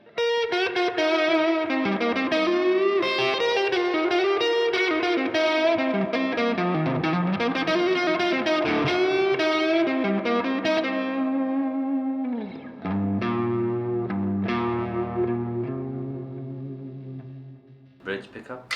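Gibson Les Paul Gary Moore model from 2001 on its bass pickup, played with reverb and a distorted, effects-laden tone: sustained melodic lead lines and chords ringing steadily, then sparser held notes with reverb tails toward the end.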